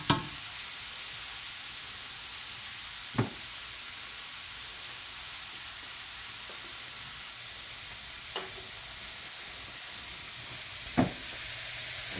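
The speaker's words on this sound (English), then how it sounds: "I'm just going to put this in here and let it steam a little bit." Cabbage steams and sizzles in a pot with a little water and olive oil, a steady soft hiss running throughout with a few sharp clicks and knocks from the pot or utensil.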